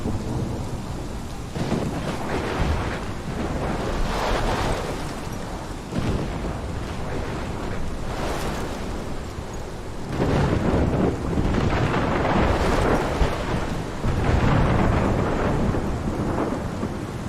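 Heavy rain pours steadily through a thunderstorm in the Life is Strange game, with repeated rolling thunder swelling and fading over the downpour, no voices.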